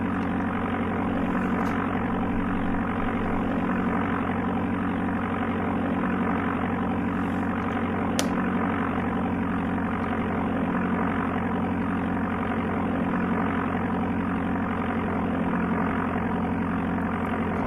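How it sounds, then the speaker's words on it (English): The Amiga video game Flight Simulator II plays a steady, droning synthesized aircraft engine with a constant buzzing hum and a few faint clicks, heard alone and unchanging throughout. "I wish the engine sound was smoother on Flight Simulator 4 when raising and lowering it."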